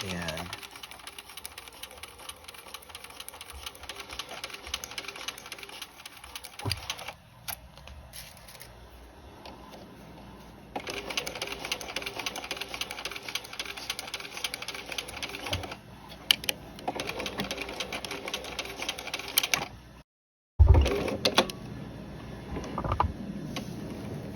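Sewing machine running a short, dense stitch across the end of a waistband, with a back tack reversing over the seam; the steady mechanical whir stops and restarts in bursts, with a voice talking over much of it.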